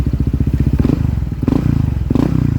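Motorcycle fitted with a new white glasswool exhaust muffler, idling with a rapid, lumpy close-up thump and blipped throttle revs rising briefly three times, loud and alone.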